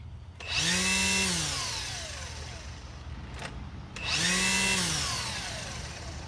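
A Milwaukee cordless string trimmer on its high setting spins up twice with a rising electric whine, settling into a steady high-pitched buzz after each start, close and fairly loud.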